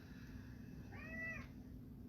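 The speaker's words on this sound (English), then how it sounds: "But come on in, buddy. My cat is joining us." A pet cat gives one short, rising-and-falling meow, faint and somewhat distant, heard indoors over a steady low background hum during a home exercise class.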